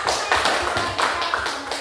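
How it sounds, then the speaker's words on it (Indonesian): A class applauding a discussion group in a school lesson: several bursts of hand-clapping in a loose, fairly rhythmic pattern, close and moderately loud, with no talk. "Oke, tepuk tangan dulu buat mereka"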